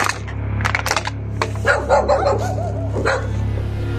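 Several dogs bark and yip in an abandoned neighborhood, with sharp irregular barks near and farther off, plus a few whimpering whines in between, over a low steady hum, with no speech.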